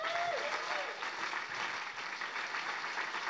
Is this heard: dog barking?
no